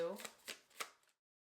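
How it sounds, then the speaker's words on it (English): A deck of tarot cards is shuffled by hand in a few quick riffling bursts, close and soft, after a brief trailing bit of speech at the start. "let us finish shuffling this final deck of cards"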